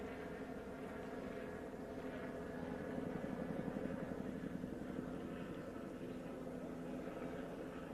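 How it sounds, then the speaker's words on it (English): A police helicopter circles overhead during an evening standoff after a shooting in Santa Barbara, its steady rotor drone lasting throughout, fairly loud and continuous with a slight swell near the middle, with no talk. "you're definitely hearing this helicopter because it's been circling for most of the evening"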